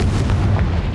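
Confringo blasting spell in Hogwarts Legacy hitting a barricade: a loud, rumbling explosion with a few crackling bursts inside it, close and heavy, with no talking.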